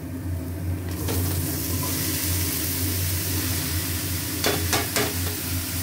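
Spice masala being sautéed in a pan for a home-cooked dish with bottle gourd, lentil dumplings and tomato, giving a steady close sizzle and stirring with a few brief scraping clatters near the end.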